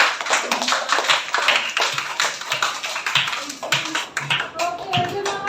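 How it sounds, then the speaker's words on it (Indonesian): A small group claps loosely for a group of presenters in a classroom, with uneven taps and scattered claps and voices talking underneath. "beri tepuk tangan untuk kelompoknya Mas Vini"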